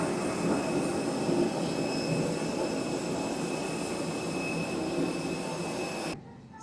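Steady, loud roar of an airplane jet engine at a Bangkok airport, continuous and close, cutting off abruptly near the end with no talking.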